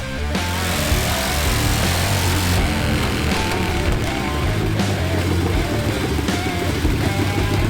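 Harley-Davidson Ironhead motorcycle engine running loud and close, a dense continuous rumble that holds steady with slight rises in pitch as it revs, no voices over it.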